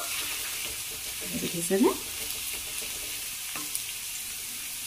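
Potato bhaji being stirred and fried fairly dry in a little oil, with a soft steady sizzle and a brief clatter of stirring near the middle; a voice speaks briefly.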